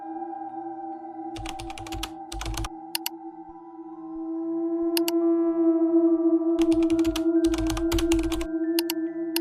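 Typing on a computer keyboard comes in bursts of clustered clicks with pauses between them, close and crisp, over steady electronic tones and a low background hum.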